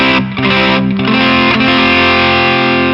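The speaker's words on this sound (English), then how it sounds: "It's got that kind of a zingy sort of an overdrive where the distortion is sitting just underneath the treble" An electric guitar through a Mesa Boogie California Tweed overdrive plays loud, gritty overdriven chords with a bright, buzzing, zingy edge, sustained and ringing with no voices.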